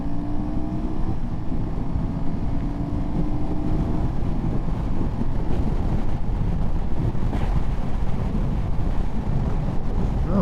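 A Royal Enfield Himalayan 450 motorcycle cruises on a freeway on a windy day, heavy wind buffeting roaring steadily over a low engine drone and a faint rising tone early on, loud and continuous with no talking.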